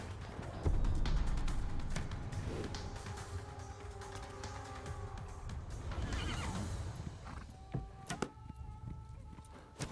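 Horses whinny loudly in Age of Empires over a dense game soundscape, with hoof clops and clattering battle noise around them.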